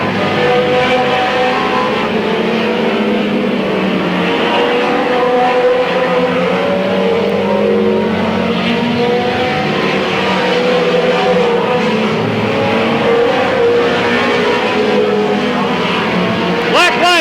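Stock cars race at Midvale Speedway, with loud engines droning and shifting in pitch throughout as the field circles the track, under a commentator's running talk.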